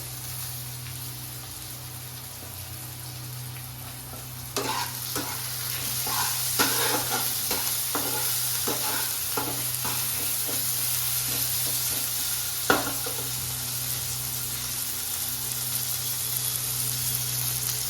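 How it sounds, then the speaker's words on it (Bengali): Onions and black cumin seeds fry in hot oil in a home kitchen, a soft steady sizzle broken midway by a run of sharp stirring scrapes and clinks, fairly quiet and close, with no talking. "কালো জিরে ফোড়ন দিচ্ছি। এবার আমি পেঁয়াজ দিয়ে দেব।"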